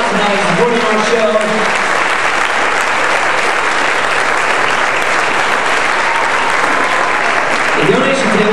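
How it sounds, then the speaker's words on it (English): Concert audience applauding after a high school alumni percussion ensemble performance, loud sustained clapping and cheering, with a voice speaking over it at the start and end. "A final round of applause."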